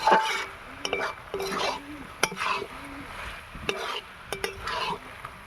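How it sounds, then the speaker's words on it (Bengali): Spatula scraping and clinking through cabbage and chickpea curry with spices in a pan, rhythmic strokes over a soft sizzle, close and fairly loud. "মশলাটা দিয়ে সবার সঙ্গে আবার ভালো করে নেড়ে চেড়ে একসঙ্গে পুরো মাখো মাখো মতন হয়ে যাবে"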